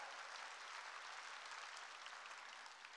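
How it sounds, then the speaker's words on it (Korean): Church congregation applauding together, a dense steady wash of many hands clapping at full strength throughout, with no talk over it. "성령의 인도함을 받아야 되는 걸 믿으면 박수로 하나님께"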